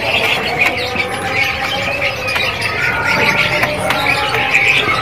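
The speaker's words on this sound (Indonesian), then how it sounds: "Inilah burung kaso-kaso bosku ya." A kaso-kaso bird squawks and chirps repeatedly against a busy, noisy bird-market background, calls overlapping steadily throughout.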